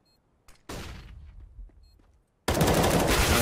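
M4 rifle fire in Counter-Strike: a short burst of rapid gunfire that trails off into echoing tails, a brief gap, then a loud, dense sustained volley at the end, no voices.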